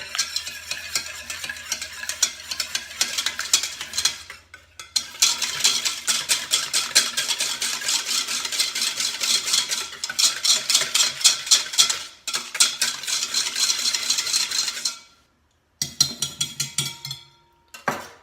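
Eggs being beaten in a bowl for an onion tart, a rapid, continuous clicking and scraping of a utensil against the bowl, close and bright, broken by brief pauses before resuming.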